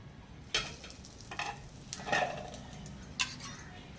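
A chapati (poli) cooking in a pan with a little ghee, faint sizzling under soft scraping and stirring touches, with a few sharper clicks and crackles.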